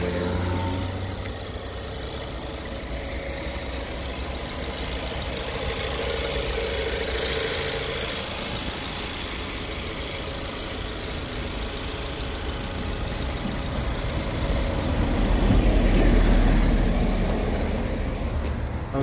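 A 2017 Ford Explorer 4WD engine idles steadily with a low, rumbling drone that swells slightly near the end, with no voices.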